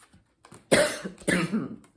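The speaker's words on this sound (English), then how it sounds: "Got a little cough going." Two sharp, harsh coughs in quick succession, close and loud, preceded by a faint breathy sound.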